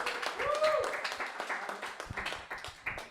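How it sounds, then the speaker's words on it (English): Audience at a comedy club clapping, a short burst of applause that thins into scattered individual claps while a voice speaks over it. "Round of applause."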